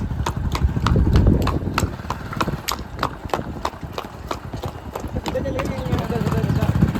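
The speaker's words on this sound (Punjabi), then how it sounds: "ਮੈਂ ਵੀ ਸਾਊਂਡ ਮੈਚ ਕਰ ਲੈਣੀ ਹੈ ਘੋੜੀ ਨਾਲ" Horse hooves clip-clop in a quick, steady rhythm on hard ground, close by, with voices and some background noise around them.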